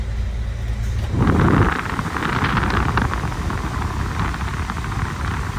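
Air conditioning blowing hard inside a 1970 Chevrolet C-10 truck, a loud steady rushing of air that surges up after a quieter moment and keeps roaring evenly, close up.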